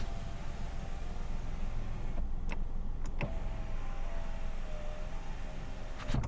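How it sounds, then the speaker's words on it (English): An electric car window motor whirs as the window runs down and back up, a steady low hum with clicks as it starts and stops, over constant road and engine noise inside a moving car. "open and close your window"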